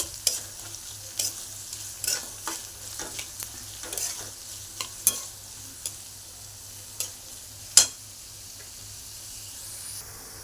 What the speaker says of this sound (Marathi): कांदा चांगला लाल भाजून घ्यायचा आहे